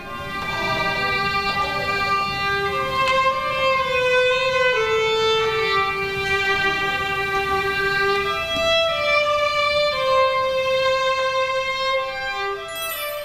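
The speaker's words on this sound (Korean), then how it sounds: "바이올린의 청아한 울림이 병사들의 마음을 적십니다." A violin plays a solo for soldiers at an army unit as part of a morale-boosting performance. Sustained, clear bowed notes move through a slow melody, close and unaccompanied, with no talking.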